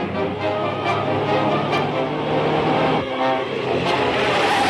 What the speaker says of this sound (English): Using sound effects to make completely normal turns seem intense.